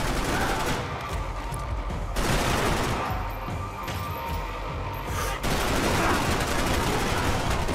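Sustained gunfire in the shooter game Max Payne 3, a loud, dense fusillade of overlapping shots that fills the whole stretch with brief gaps and sudden bursts.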